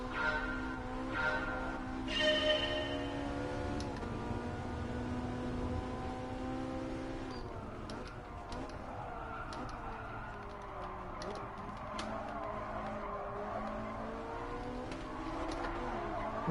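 Ferrari 458 Italia engine in Gran Turismo Sport, a continuous high revving race car drone rising and falling through gear shifts over a long stretch, steady and moderately loud.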